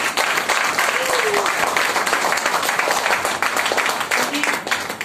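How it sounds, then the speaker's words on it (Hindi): Audience applause at a leadership closing event in Mauranipur, a dense steady wash of clapping that fills the whole stretch at even loudness, with faint voices calling out underneath. "तो एक बार उनके लिए भी जोरदार तालियां।"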